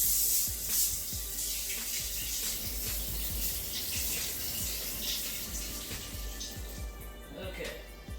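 Water runs from a kitchen sink tap as a watermelon is rinsed, a steady close splashing rush with scattered thumps and rubbing, and a voice speaking in places over it.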